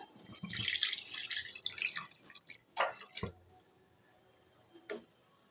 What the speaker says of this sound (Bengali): এবার এর মধ্যে দেখো আমি পরিমাণ মতো জল দিয়ে দিলাম